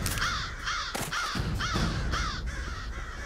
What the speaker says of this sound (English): Yeah, because they're crowing all the time